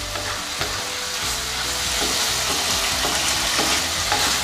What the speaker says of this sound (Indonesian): Kemudian masukkan jamur dan ditumis sebentar saja.